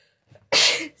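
A single loud, explosive sneeze bursts out after a brief quiet intake of breath.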